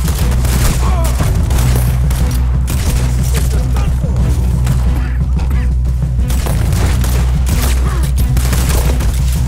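Gunfire in Red Dead Redemption 2, including pistol shots, crackles in a dense, continuous barrage of loud rapid shots and booms for nearly ten seconds, with voices chattering underneath.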